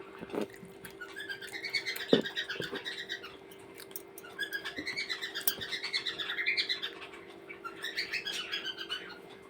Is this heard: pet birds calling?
yes